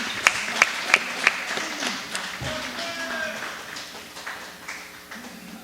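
A crowd at a live pro wrestling event applauds in respect for a wrestler at the end of a match: a few sharp claps stand out at first, then steady, moderately distant clapping continues with a voice talking over it.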